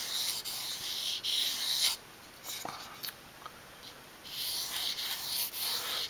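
A knife blade stroked lightly across sandpaper to remove the burr, giving soft, quiet rubbing strokes in short bursts with brief pauses between them.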